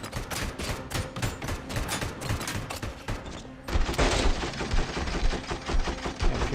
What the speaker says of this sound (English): I should be shooting at a closer range than this thing.